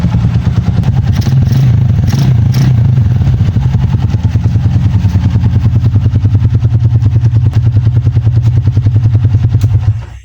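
A Honda TMX 155 motorcycle engine idles close and loud in a fast, even single-cylinder putter, with a faint mechanical clatter from slightly worn timing gears riding over the beat, steady for about ten seconds before cutting off.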